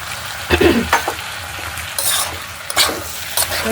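Potato-pea curry with Kashmiri chilli sizzling in the pan as rinse water from the blender and yogurt bowl goes in, steady frying hiss with a few bursts of louder spattering and a couple of light utensil clinks.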